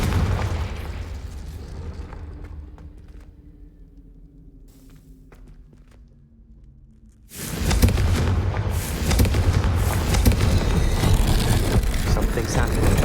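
A Confringo explosive spell in a video game erupts after a long stretch of quiet, low ambient hum, hitting as one sudden loud blast followed by a sustained roaring, crackling burst that stays dense to the end.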